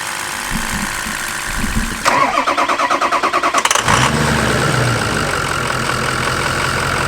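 A car engine on a new battery cranks in a fast, even churning rhythm for about two seconds, then catches and settles into a steady, loud idle.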